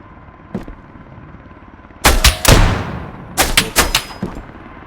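Enemy gunfire in the video game Road to Vostok: bursts of sharp shots crack out in two loud clusters, with one faint distant shot before them and each volley trailing off in a short echoing decay.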